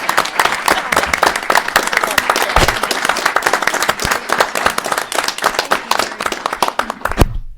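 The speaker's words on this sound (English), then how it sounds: "I think we ought to acknowledge Patty this evening with a round of applause" A room full of people bursts into loud, close applause, with sharp individual claps audible and a few voices underneath, tapering toward the end.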